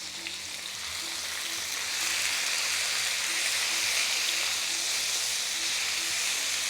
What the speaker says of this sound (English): Let's start cooking down these onions and the tomatoes